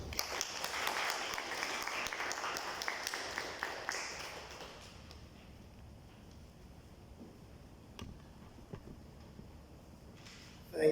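An audience applauds after a talk on the Harlem Renaissance and Black Art Movement, a moderate patter of clapping that thins out after about five seconds into quiet room noise with a few stray sounds.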